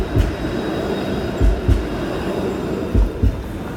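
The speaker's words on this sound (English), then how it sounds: "504 King Street, streetcar." A 504 King streetcar rolls along King Street in downtown Toronto during rush hour, with a steady close rumble and paired rhythmic wheel thumps over rail joints, free of talk.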